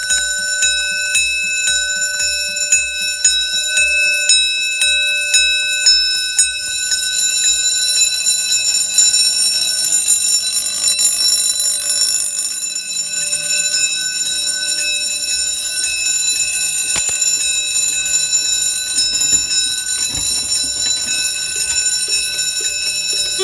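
Mircom fire alarm station bells ring hard and continuously during a system test, a loud, steady metallic clanging that fills the room for over twenty seconds with no voices.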